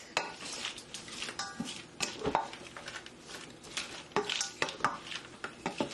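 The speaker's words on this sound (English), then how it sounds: "So now I'm going to stir just to combine all the seasonings and the ingredients." Shrimp and sausage vegetable stir fry being stirred in a pan, with steady scraping and clinking of a utensil against the pan over a soft sizzle, close and continuous with no talking.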